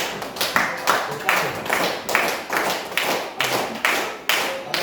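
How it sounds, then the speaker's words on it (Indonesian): A classroom of primary school children claps together in a steady, brisk rhythm, close by, the claps continuing evenly for several seconds. "Tepuk tangan dulu untuk kelompok satu yang sudah selesai ya."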